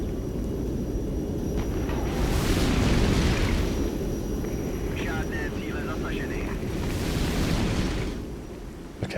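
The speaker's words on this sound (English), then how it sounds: "I'm just going to try and get some napalm on that mortar." Napalm strike in the war game Regiments rolls through as a long, dense explosive rumble with a rushing swell around two to three seconds and another near seven, over constant battlefield din while a voice talks on top.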